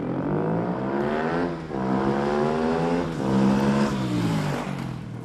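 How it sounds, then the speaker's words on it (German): A cross/off-road motorcycle engine revs loud and close in a studio, its pitch climbing and falling in several surging waves with brief dips between, heard alone without voices. "Und wir können Ihnen auch einmal demonstrieren, wie dieses Motorrad klingt."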